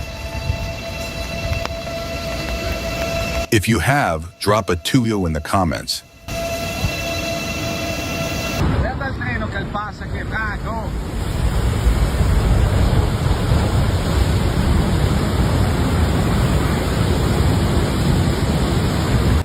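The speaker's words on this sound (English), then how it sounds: "Flooded tracks aren't a reason to stop the train, since modern trains are built to be waterproof and aren't affected by water." A train runs along flooded railway tracks, giving a loud, steady rumbling roar with a sustained horn-like tone early on, and a voice speaks briefly over the noise.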